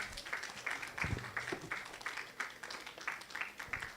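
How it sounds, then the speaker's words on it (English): Scattered audience applause at a prematurity awareness summit, a steady patter of hand claps under a faint murmur, fairly soft and somewhat distant, with a few louder individual claps standing out. "Let's welcome Selina with a round of applause."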